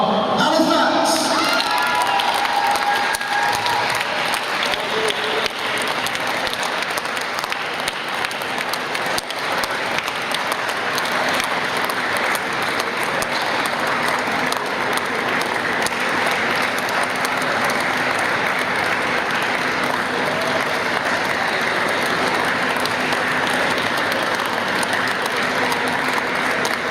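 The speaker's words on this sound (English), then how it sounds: "Keep the applause going, please." A crowd applauds and cheers for Halifax, 2018 wheelchair rugby league Challenge Cup final winners, in a sports hall; sustained loud clapping with shouts and whoops, children among them, running on steadily with voices over it.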